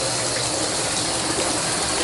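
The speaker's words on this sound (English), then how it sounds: "as you can see, the water flows well and it drains nicely" Shower water gushing hard from a head about six and a half feet up and draining away, a dense, steady, loud rush with no pauses.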